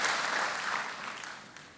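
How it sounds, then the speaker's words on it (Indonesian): A church congregation applauds the praise and worship team, a dense, close burst of clapping that tapers off gradually over a couple of seconds. "bolehkah kita kasih tepuk tangan dulu untuk semua tim Praise and Worship yang luar biasa"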